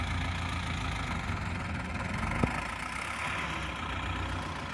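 A T-40 tractor engine running steadily during wheat and barley sowing in a field, a continuous low, rumbling drone at moderate distance with a single faint click midway.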